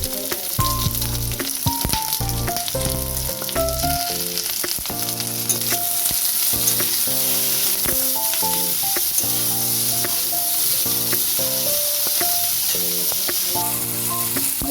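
Onion and capsicum sizzle steadily in a hot pan, a constant bright frying hiss with stirring, heard alongside loud background music throughout.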